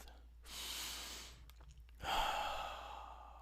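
Two deep, slow breaths, each a long airy inhale or exhale lasting about a second and a half with a short pause between, soft and close, with no talking.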